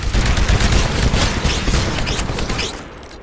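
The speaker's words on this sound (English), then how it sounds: "Destroy the Titan with your anti-Titan weapon." An anti-Titan weapon fires at a Titan in the video game Titanfall, a loud, dense blast of shots and booms that gradually thins and fades toward the end.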